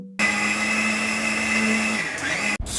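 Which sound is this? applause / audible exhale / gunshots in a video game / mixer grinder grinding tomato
mixer grinder grinding tomato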